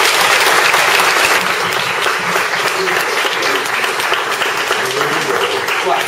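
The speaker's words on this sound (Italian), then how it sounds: "adesso possiamo salutare facendo un applauso" At an international prize ceremony, an audience gives a loud, sustained round of applause that holds steady throughout.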